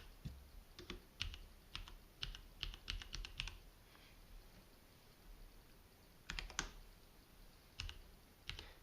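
Keystrokes on a Cherry Xtrfy MX8.2 TKL wireless mechanical gaming keyboard, quiet and close, coming in quick irregular bursts of clicks with a pause in the middle before a few more taps.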